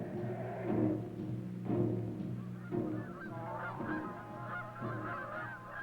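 Migrating geese honk and call in a loud flock at the Astrakhan Reserve, with overlapping harsh honks rising in waves and no talk over them.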